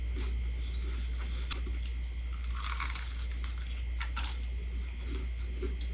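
Crunchy bites of a Popeyes ghost pepper chicken sandwich, a few close crisp crunches and chewing sounds in quick bursts over a constant low hum, fairly quiet, no talking.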